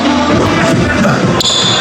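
Ball struck against the ceiling during an indoor basketball shooting game, with a sharp thump near the end amid echoing room noise, and people talk through it.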